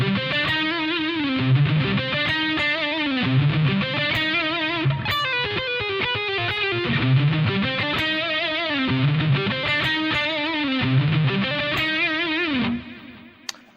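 Distorted electric guitar plays a fast, repeating neoclassical lick, with rapid notes in cycling phrases, loud and close, then a brief fade at the end.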